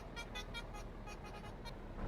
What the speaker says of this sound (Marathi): मी याला हॉर्न वाजवतो तरी पण हा ऐकतच नाही